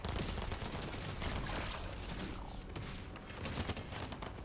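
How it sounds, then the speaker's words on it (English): Rapid automatic turret gunfire in a video game, a dense continuous fusillade chipping at an enemy shield, loud and steady throughout with overlapping shots and no speech. "Auto turret just chipping away."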